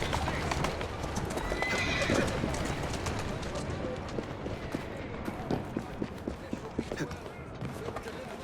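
Horse hooves clip-clop at a gallop with repeated neighs and whinnies in the Assassin's Creed Syndicate video game, loud and close, with a voice talking over the riding.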